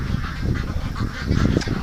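Domestic ducks kept for a charity flock call loudly through the night, honking and quacking in a dense, close chorus with no pause.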